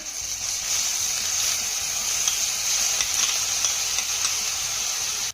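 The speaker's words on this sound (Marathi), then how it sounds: "आता हा कांदा आपल्याला हलक्या सोनेरी रंगावरती चांगला परतून घ्यायचा आहे" Onion paste frying in oil with cardamom, cinnamon and cumin, a steady bright hiss of sizzling with faint stirring, close and continuous until it cuts off at the end.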